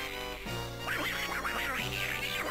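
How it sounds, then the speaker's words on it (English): A Donkey Kong 64 boss gives a nasal, warbling quack like Donald Duck's, a run of wobbling squawks over a steady game music bed. "I swear he just sounded like Donald Duck"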